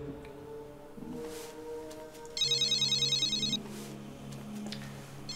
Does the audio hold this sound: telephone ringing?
yes